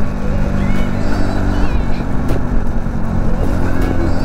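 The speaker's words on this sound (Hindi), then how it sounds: "ये बुलेट है, आगे SKS 400 है और सुजुकी का 250 है, एडवेंचर बाइक है।" A Sunday group ride of motorcycles, including a Royal Enfield Bullet, an SKS 400 and a Suzuki 250 adventure bike, rumbles with steady, close engine noise that holds throughout.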